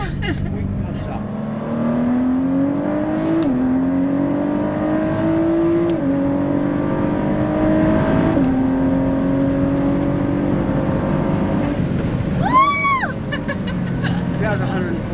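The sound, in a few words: sports car accelerating at speed on race track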